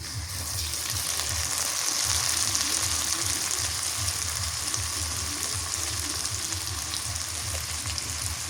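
Onion and garlic paste with chopped onion fries in a pan for a home-cooked Bengali curry, giving a steady, dense sizzle with a continuous hiss throughout and no voices.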